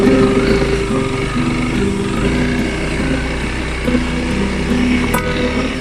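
A 300L motorcycle rides along a narrow, tight mountain road in the Philippines, its engine droning steadily and loud up close with slight shifts in pitch, the run carrying on without pause.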